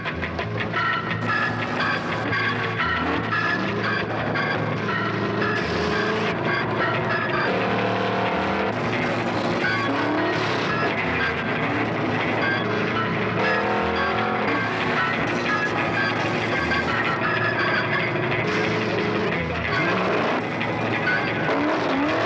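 Race cars of the 1972 World 600 at Charlotte roar steadily as they dive into the pits, a dense, continuous engine drone with shifting pitches from several cars revving and slowing close by.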